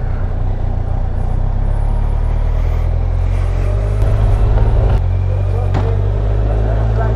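Traffic rumbling along a busy London street near Bond Street, cars passing in a steady low drone with a few louder swells, and faint talk now and then underneath.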